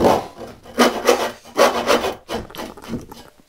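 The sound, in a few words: crosscutting wood with a hand rip saw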